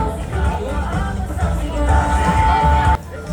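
Crowd cheering and whooping at a city employees' parade for Pasig Day, a loud continuous mass of voices with shouts rising and falling, a steady tone running through the middle section.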